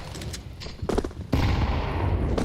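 MP9 submachine gun fire in Counter-Strike 2 during a PGL CS2 European RMR 2024 match, loud close bursts of rapid shots followed by a sustained rattling stream of gunfire.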